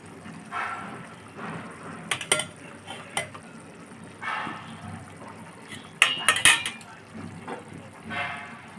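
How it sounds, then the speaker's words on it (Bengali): A metal lid lifted off a cooking pot of fish, vegetable and water spinach curry, with several sharp clinks and clatters in quick succession amid soft bubbling and kitchen handling noise. "এখন আমি ঢাকনাটা খুলে নিব"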